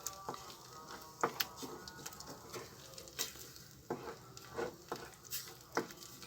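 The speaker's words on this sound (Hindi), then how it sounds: "इसलिए हम हल्की आंच में बहुत आराम से भूनेंगे इसे।" Thick ginger halwa sizzles and roasts in a kadhai over low heat while a spoon stirs and scrapes it, giving soft frying hiss with irregular scraping knocks close by.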